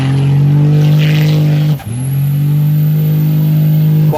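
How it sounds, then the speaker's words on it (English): A lifted first-generation truck spins donuts with its engine held at a loud, steady high rev, briefly dropping and surging back, close and continuous with no talking. "Pop up a clip of it doing donuts."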